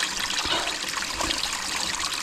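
Fresh water trickles from a small forest stream on a deep jungle trail, a soft, close, continuous dribble with light splashing and no voices.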